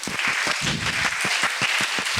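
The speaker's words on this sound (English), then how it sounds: "So give yourself a big round of applause." Festival crowd applause at a digital nomad gathering in Danang, steady rhythmic clapping with distinct beats, loud and continuous throughout.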